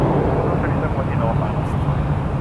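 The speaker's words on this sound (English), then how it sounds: "787 Dreamliner." A Boeing 787 Dreamliner at Toronto Pearson airport gives off a steady, loud broadband engine roar that stays constant throughout.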